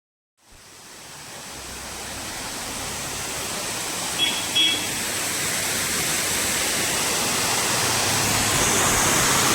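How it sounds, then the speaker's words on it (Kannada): The steady roar of Hanumanahalli waterfall, a broad continuous rush of falling water that swells slightly and fills the whole scene, close and loud with no talk. "ಹನುಮನಹಳ್ಳಿ ಫಾಲ್ಸ್ ಇದು ಚೆನ್ನಾಗಿದೆ"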